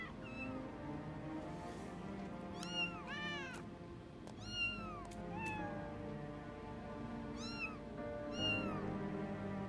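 A cat in Final Fantasy XIV meows repeatedly in short, rising-falling calls over a steady game background hum and ambience.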